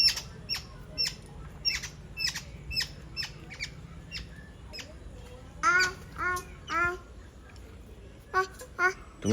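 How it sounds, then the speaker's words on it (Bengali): Myna birds call near a house in a series of sharp, repeated squawks and chattering notes. The calls come in quick bursts with short pauses and sound fairly close. "অনেক শালিক পাখি আছে"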